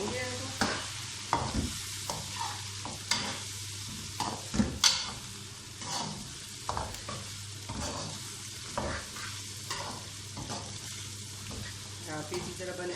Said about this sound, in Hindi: 5 मिनट हम मसाले में हम भूनेंगे इनको।